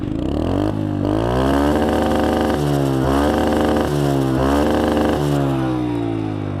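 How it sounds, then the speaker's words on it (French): A motorcycle engine runs loud and close while riding, droning steadily with repeated rising pitch sweeps as it accelerates through the gears and drops between shifts. "je vais vous laisser un petit peu écouter le son de la moto."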